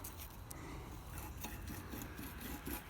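A salvaged tool scratched and scraped by hand, producing faint, uneven rasping and rubbing strokes close by, with no talk.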